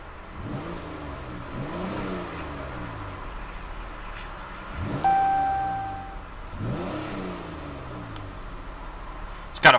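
A 2015 Chrysler 200C's 3.6-liter V6 engine revs up three times, each rising surge deep and throaty before dropping back to idle, with a brief chime midway.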